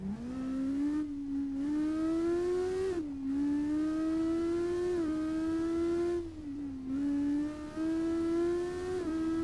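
A Formula Student race car engine drones steadily at high revs, its pitch climbing and dipping in repeated surges between gear changes, loud and close throughout with no talk.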